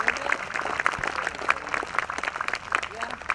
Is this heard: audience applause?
yes